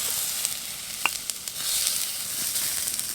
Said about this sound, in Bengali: পেঁয়াজ এবং টমেটোটা বেশ ভাজা ভাজা হয়ে এসেছে।